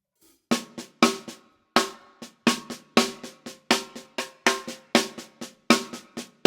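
Single drum strokes struck one at a time in a steady rhythm, about seventeen sharp hits, each decaying quickly, with clearly uneven loudness and tone from stroke to stroke, played alone and close.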